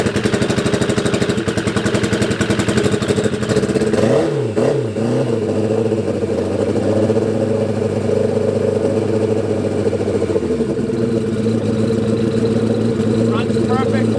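A fuel-injected 1993 Suzuki GSXR1100 turbo motorcycle idles loudly nearby, with a brief rev partway through, then settles back into a steady, even idle.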